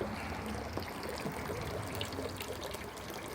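Water trickling steadily out of a homemade garden pond filter, a soft continuous wash of running water close by, with no voices.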